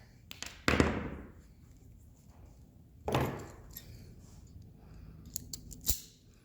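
Cutters snip through an outboard motor stop switch wire on a Johnson Evinrude controller: three sharp, separate clicks spaced a few seconds apart, close and fairly quiet.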